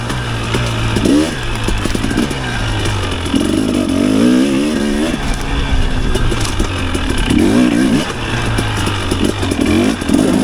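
A 2019 Husqvarna TX 300 two-stroke dirt bike engine running on a morning ride, loud and close, with repeated rising and falling revs over a constant buzzing drone.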